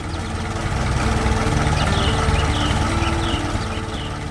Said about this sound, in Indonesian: Traktor merah dengan trailer penuh tanaman sedang berjalan di tengah pemandangan industri yang penuh mesin